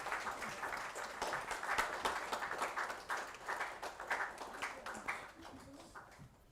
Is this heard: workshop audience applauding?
yes